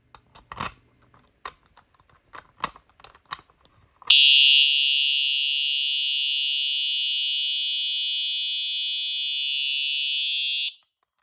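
Several sharp clicks and taps, then a loud, steady, piercing Simplex TrueAlert fire alarm horn, sounded by key activation, blares for about six seconds before cutting off abruptly.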